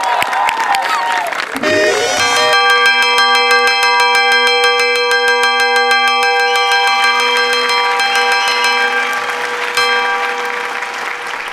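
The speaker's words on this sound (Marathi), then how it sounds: "काय घंटा वाजाडतो रे?" A school bell rings loudly and continuously after a brief noisy start, its metallic clanging holding steady for several seconds before easing off near the end.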